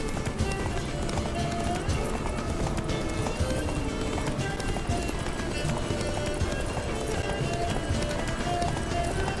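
Hooves of a galloping horse pound in a quick, steady clip-clop in The Witcher 3, loud and continuous beneath a voice and busy game sound.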